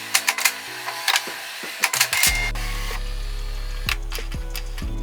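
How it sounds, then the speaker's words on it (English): A Canon PIXMA E3440 inkjet printer powers on for the first time with a few sharp clicks and taps, then a steady mechanical whirring and buzzing hum as its internal mechanism runs, heard up close and alone. "Here I power on the printer for the first time."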